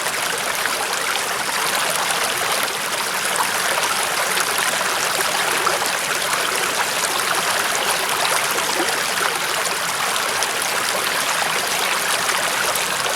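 Water rushes steadily through a self-feeding gold mining sluice box, a constant bright, hissing flow that stays even and unbroken from start to finish.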